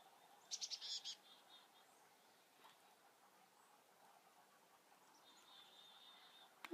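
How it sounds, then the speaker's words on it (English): A black-capped chickadee calls in quiet woods beside a stream, with a short burst of high chirps early on, a faint thin note later, and a brief sharper call at the very end, all soft and fairly distant. "It always gives me a really nice feeling when I'm out in the woods and the chickadees start coming surround me."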